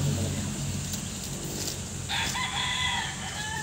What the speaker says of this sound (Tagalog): Ito na manok